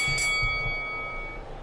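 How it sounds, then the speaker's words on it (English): A boxing bell in the Legends of Boxing PC game rings with a bright metallic clang that hangs and slowly fades, heard alone with a few soft thuds underneath. "And there is the bell."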